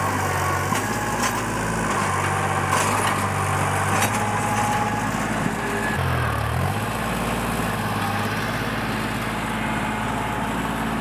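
An old Kubota tractor engine works steadily close by in a bean field, a continuous loud rumble and drone with a brief dip in pitch partway through, no talk over it.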